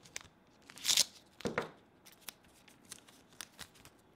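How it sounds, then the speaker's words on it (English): A strip of adhesive tape is pulled and torn off by hand while mounting a USB hub and card reader under a desk, giving a sharp rip followed by a shorter second tear, close and fairly quiet, with faint handling clicks after. "So I'm going to take a piece of the tape."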